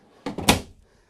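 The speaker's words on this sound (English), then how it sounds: "it's full frame extension ball bearing drawer glides. They come all the way out." A ball bearing drawer glide in an RV's storage, a Jayco Alante Class A 26X, rolls open in one quick, close sliding rush with a soft knock as it reaches full extension.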